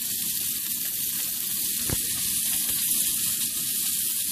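Thin cheese steak meat sizzles steadily in a hot pan, a loud continuous hiss with one brief sharper crackle partway through, no voices.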